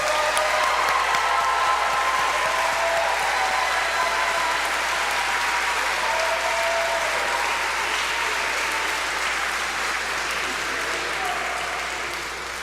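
Sustained audience applause at a graduation ceremony, a dense wash of many hands clapping steadily and loudly, tapering slightly toward the end, with faint crowd murmur beneath.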